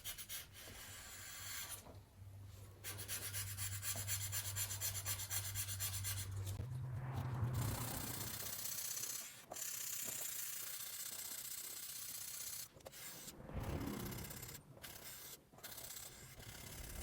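Steel knife blade, 10Cr15CoMoV-type stainless, rubbed with 1000 and 2000 grit waterproof sandpaper wrapped on a wooden block with pink polishing fluid; steady rasping back-and-forth scrubbing, close and continuous with short pauses.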